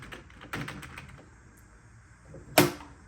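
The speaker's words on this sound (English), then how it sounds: "This is like if a typewriter and a computer had a baby." Typewriter-computer hybrid with a keyboard being typed on: a few scattered, soft keystroke clicks followed by one sharper, louder clack, close by in a quiet room.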